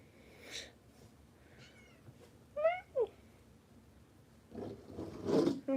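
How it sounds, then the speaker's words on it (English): A pet cat meowing indoors: a couple of short, faint rising meows in the middle of a quiet room, with soft rustling and shuffling noises before and after. "My cat just meowed at me."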